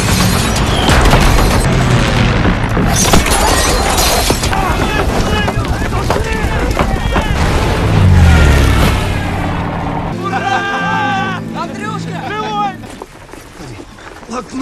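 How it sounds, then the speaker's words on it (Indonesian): Heavy booms and rapid bursts of fighter plane gunfire crash together, with rumbling explosions and a voice speaking over part of the chaos. "pesawat tempur pihak Nazi menembaki mereka"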